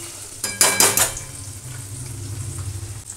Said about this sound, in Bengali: আলুগুলি ভাজা হতে থাকুক।